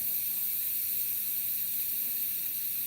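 An airbrush sprays Createx and acrylic paint onto a stretched canvas lighthouse scene, giving a steady, continuous close hiss that holds even throughout.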